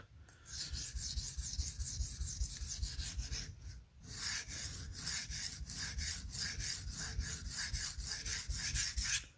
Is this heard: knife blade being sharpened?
yes